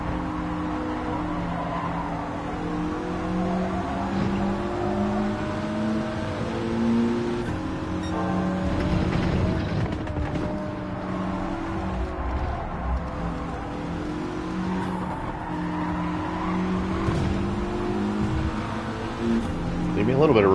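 A Mitsubishi Lancer race car in the video game Gran Turismo 7, its engine droning and shifting pitch steadily as it revs through gears, with a voice talking over it.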